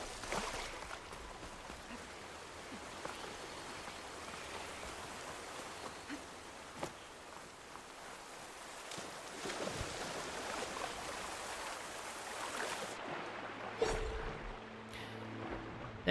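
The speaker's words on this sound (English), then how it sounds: "There's a waterfall here." A waterfall in the video game Horizon Forbidden West, heard as a steady, broadband rushing of water that stays fairly faint and constant, with a few brief knocks and a change in the mix near the end.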